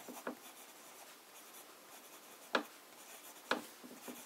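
A broad, fairly wet fountain pen nib laid down Visconti Sepia ink on paper, a soft continuous scratch of writing broken by a few sharper taps as the nib lifts and lands, close and quiet with no talk.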